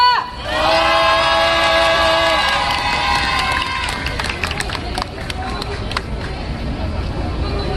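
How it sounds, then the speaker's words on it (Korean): A large crowd at a political rally in Korea opposing THAAD deployment breaks into loud cheering, then keeps up sustained clapping and applause. "이종희 위원장님을 여러분들의 연대 박수로 모시도록 하겠습니다"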